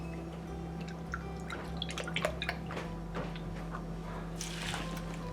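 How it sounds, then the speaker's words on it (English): Milk is poured over oats for a simple dorm breakfast, a soft continuous liquid trickle and splash heard up close and fairly quiet, with no talking. "you're gonna want the same amount of milk to the oats"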